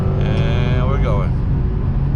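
A Lexus RC F with a V8 engine cruises along, a steady low rumble heard from inside the car with a brief rising and falling tone over it, loud and close.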